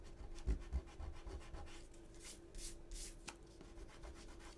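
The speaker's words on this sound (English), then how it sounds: "I can go in here with my mono sand eraser and I can just sand erase off this glue" A Tombow Mono sand eraser rubs away dried glue on a paper pocket card, giving soft, close scratchy strokes in short bursts, faint and without talk.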